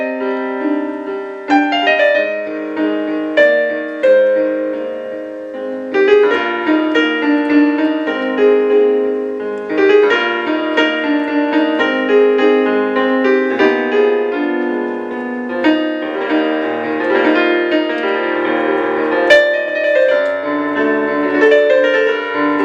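Solo piano performing an original composition, melodic lines and chords flowing steadily with sustained resonance, close and clear, no voices throughout.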